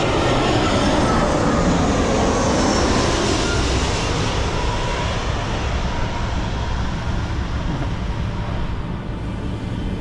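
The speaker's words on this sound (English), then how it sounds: "It's an easy jet arrival." easyJet airliner coming in low to land at Gibraltar, a loud continuous broadband roar of jet engines that holds steady and fades slightly toward the end, heard from close by without speech.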